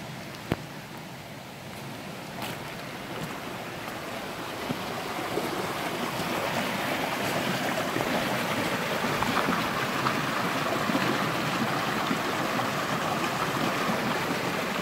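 Floodwater rushes across a flooded road at a white bridge in Krasnoarmeysky district, a steady, loud, broadband roar of flowing water that builds slightly and then holds constant, with a few faint clicks early on.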